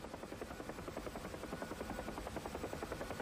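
A UH-1 helicopter autorotates in a flight simulator game, its rotor blades beating in a steady, even chop that stays fairly quiet and continuous the whole time.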